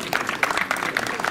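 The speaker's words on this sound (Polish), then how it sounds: "Jeszcze raz wielkie brawa." Audience applause at a rally park motorsport event, a short burst of scattered clapping heard at a moderate distance with no voices over it.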